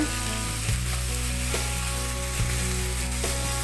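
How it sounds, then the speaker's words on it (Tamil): Long strips of bitter gourd sauté in an open pan, making a loud, dense sizzle with a steady low hum underneath and brief stir scrapes about once a second. "ஒரு 5 நிமிஷம் நல்லா வதக்குங்க"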